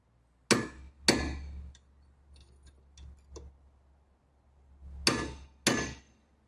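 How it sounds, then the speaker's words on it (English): Four sharp metallic hammer strikes on the end of a pickle fork, on the rear hub and knuckle of a 2008 Toyota RAV4, in two pairs, each ringing briefly, with faint light tapping and clinking between them. "what actually works well for this is the end of this pickle fork and this hammer"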